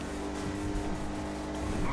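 An Enus Windsor car in the video game GTA V revs hard under acceleration with tire squeal and skidding, a dense, loud, continuous engine roar.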